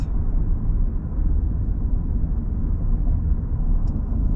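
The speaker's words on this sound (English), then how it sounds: "Let's go for an F-150 drive. First gear, second gear, third gear, fourth, fifth." A Ford F-150 pickup drives along, a steady, loud, low engine and road rumble filling the cab without clear gear-change breaks.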